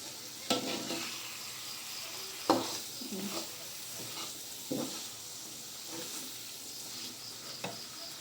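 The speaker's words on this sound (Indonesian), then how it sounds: "Setelah itu kita aduk lagi apakah dagingnya empuk." Beef pieces stirred in a pan for a Padang-style dish, with a soft continuous sizzle and occasional scraping clinks from the utensil against the pan.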